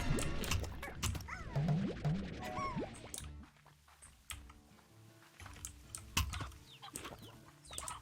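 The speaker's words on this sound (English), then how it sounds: "Ah, chicken." Video game chicken clucks a few times early on, fairly faint, amid clicky keyboard typing and scattered game sound effects.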